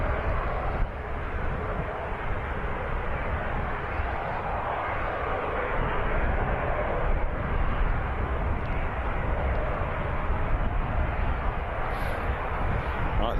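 Aircraft on the runway at Birmingham Airport produce a continuous broad engine roar, steady and fairly loud throughout, with no clear talk over it.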